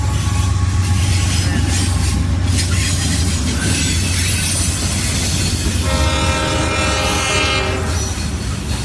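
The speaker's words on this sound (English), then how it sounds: "Oh, look at the train coming through." A train rumbles past in a loud, steady passage with a low continuous roar and clattering wheels, a brief horn-like tone rising near the end, and a voice faintly under it.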